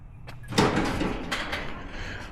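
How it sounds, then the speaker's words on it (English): The left door of a truck parked in a garage swings shut with a solid thump followed by a brief rattling echo, near and fairly loud. "Close left door."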